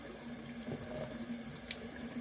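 Water runs steadily from a tap over a burnt thumb, a soft continuous hiss of flowing water close by, with no talking.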